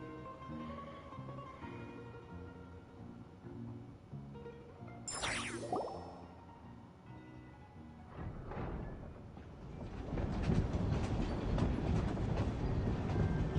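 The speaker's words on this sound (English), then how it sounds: "This train looks so fucking cool," A train in Genshin Impact rolls along with a rumbling, clattering rhythm, a sharp whoosh or screech partway through, then a louder, denser roar of wheels toward the end.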